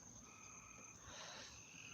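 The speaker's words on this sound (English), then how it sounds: "Yeah, you hear crickets." Crickets and other night insects chirp outdoors in a steady, faint, continuous trill with a few higher tones, no voices present.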